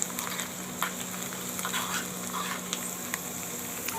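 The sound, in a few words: tempering (vaghar) sizzling in hot oil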